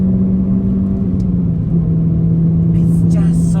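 Naturally aspirated Renault Clio RS pulling in fifth gear on an open Namibian road, a loud, steady engine drone with a smooth, even tone, a light rise in pitch and wind rushing over the top.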